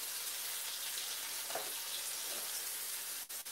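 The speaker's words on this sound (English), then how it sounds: "Frying all these things." Sea bass fries in a pan, giving a steady broadband hiss and sizzle that holds throughout and drops out briefly near the end; no voices.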